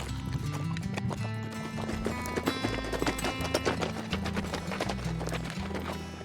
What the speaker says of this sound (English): Guys ready for some galloping?